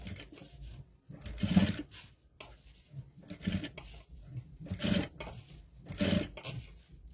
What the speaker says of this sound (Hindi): यहाँ से 2 से 3 बार हम सिलाई लगा लेंगे